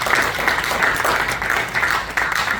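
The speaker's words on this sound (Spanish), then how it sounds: "Podemos darle un aplauso al Señor." A church congregation at a bilingual Sunday service claps loudly and continuously, a thick, energetic roll of many hands with a few sharper accents, close and full throughout.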